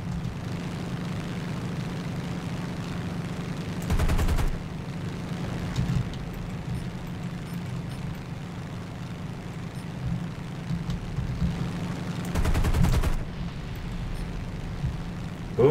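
Artillery fire in the War Thunder video game: two heavy booming blasts, several seconds apart, stand out over a constant droning engine background.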